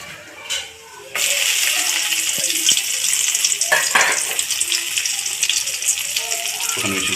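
Tempering seeds, a pinch of turmeric and crushed garlic frying in hot oil give a loud, steady sizzle after a short quieter start, with a few clinks and stirring sounds over it.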